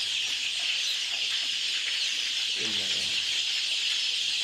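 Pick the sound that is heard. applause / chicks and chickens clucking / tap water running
chicks and chickens clucking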